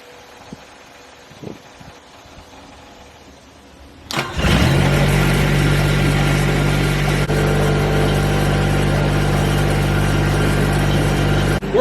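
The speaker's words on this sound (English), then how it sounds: "what we're going to do is start the engine up" A JAPA 405 firewood processor's engine cranks and catches after a quiet stretch, then runs loud and steady at idle with a strong low drone, close by and with no talk.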